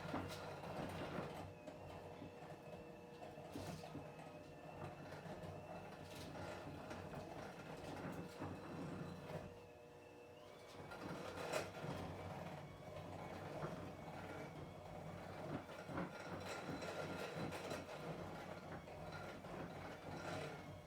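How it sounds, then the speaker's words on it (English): An electric mixer churns peanut butter squares ingredients in a bowl, giving a steady whirring, grinding drone with rattling texture, moderately close and continuous throughout. "all those ingredients that we just put in the bowl, we're mixing up well with the mixer"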